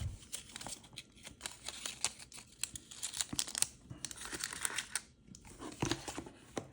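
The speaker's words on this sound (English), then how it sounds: "this right here is a USB-C power adapter, which I'll also go ahead and unwrap." Plastic and paper packaging crinkles and tears close by in irregular bursts as a USB-C power adapter is unwrapped.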